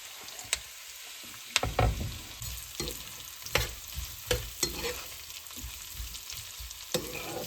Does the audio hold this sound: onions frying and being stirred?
yes